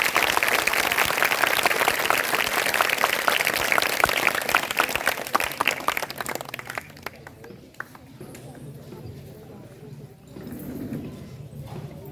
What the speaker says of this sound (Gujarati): આપણે આ સૌ વિજેતાઓનું તાળીઓથી પણ સન્માન કરીએ.